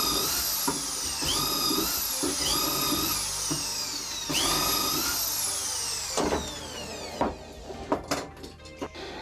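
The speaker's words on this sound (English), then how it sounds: "Flush to the end of the jig, cramped in place, drill the holes." A power drill whines loudly up and down as it bores dowel holes in a wooden jig, in two long runs, then a few short knocks and clatters toward the end.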